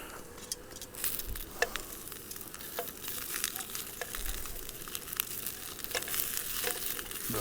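Sausages frying on a camp cooker over a fire beside a lake, a close, continuous crackling sizzle with scattered sharp pops and spits throughout.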